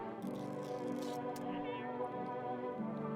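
A cat meowing in the video game No I'm Not A Human, drawn-out, wavering cries that fill the moment, close and fairly loud.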